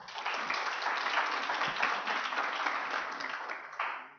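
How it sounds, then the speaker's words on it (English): Audience applause at an evening award session, a dense steady wash of clapping from a crowd that holds for about four seconds before tapering slightly at the end. "just give them a round of applause."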